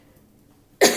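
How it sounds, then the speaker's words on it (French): A single sharp cough bursts out near the end after near silence, close and loud. "je risque de beaucoup tousser"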